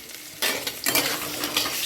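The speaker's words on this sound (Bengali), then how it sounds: "কাঁকরোল ভাজা হচ্ছে" Spiny gourd (kakrol) frying in oil in a wok: after a quiet start, a close, steady, crackling sizzle swells and keeps going, with no one speaking.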